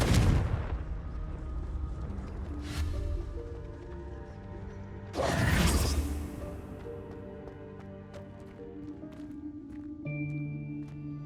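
In Hogwarts Legacy, a Confringo fire spell is cast, with a sharp blast at the start, a second burst, then a louder crackling explosion midway, followed by ringing magical tones and game music.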